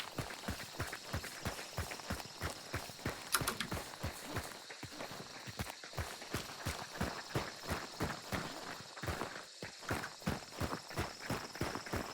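Footsteps in the game Hunt: Showdown, a steady run of heavy, clip-clop-like steps continuing throughout, fairly close and loud against a constant background hiss.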